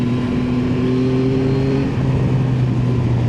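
A 2025 or 2023 Yamaha Tracer 9 GT motorcycle cruising in second gear at about 20 mph, its engine giving a steady loud drone with a slight pitch change midway, heard close and alone.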